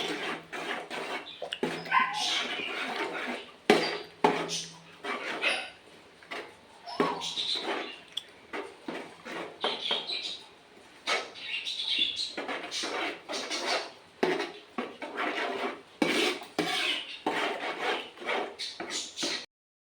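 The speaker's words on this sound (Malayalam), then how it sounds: "ചവ്വരി മുഴുവൻ ഇതിലേക്കിട്ട് നമ്മൾ നന്നായിട്ട് ഇളക്കി പിടിപ്പിക്കണം." A spoon or ladle stirs sago pearls in a pot for pineapple payasam, making a steady run of scraping, rubbing strokes against the metal at close range with no talking.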